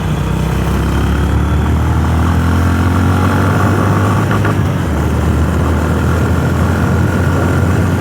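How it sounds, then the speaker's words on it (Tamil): A Honda CB350RS motorcycle engine is held at high revs in third gear, giving a steady, loud, smooth drone with a low hum underneath that runs unbroken for the whole stretch, with no talk. "அந்த ஹை ரேஞ்சிலையுமே இன்ஜினோட சவுண்ட் அப்படியே ஒரு நார்மலா இருக்கு, ரிஃபைண்டா அப்படியே அமைதியா இருந்த மாதிரியே இருக்கு"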